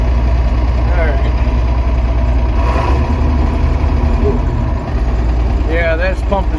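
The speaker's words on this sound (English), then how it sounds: "this pump is rumbling under the seat" An old idling truck rumbles heavily and continuously, its pump droning low beneath the seat close by, while a voice talks over the engine noise.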